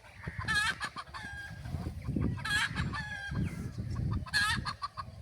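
Local country roosters crow three times in a row, spaced a couple of seconds apart, over a rumbling background with scattered clucks, on a winter morning in rural Bengal.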